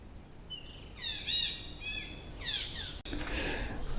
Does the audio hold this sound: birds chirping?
yes